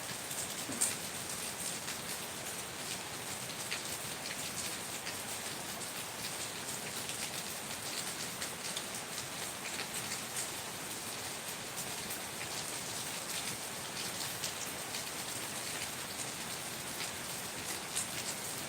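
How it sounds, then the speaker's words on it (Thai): Heavy rain pours down steadily and loudly in Kamphaeng Phet, Thailand, a dense, even hiss of drops drumming on surfaces without a pause, with no voices over it. "บ้านใครกำลังฝนตกแบบนี้บ้างไหมคะ"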